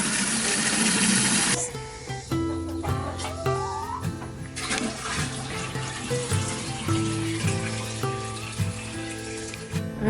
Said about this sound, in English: The chickens are about out of water, so we're gonna fill their waters up